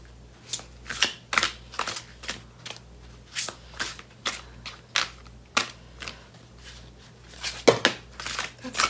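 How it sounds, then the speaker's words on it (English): Tarot cards being shuffled in a steady run of crisp, riffling bursts, close and fairly loud, with no one talking. "I think these cards wanted to come out"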